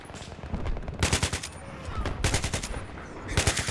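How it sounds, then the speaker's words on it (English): Enemy gunfire in Battlefield 3 rattles in loud, rapid automatic bursts that start and stop several times, close and harsh, with overlapping shots between the volleys. "I literally just dropped into enemy fire"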